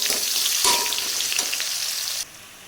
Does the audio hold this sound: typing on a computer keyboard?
no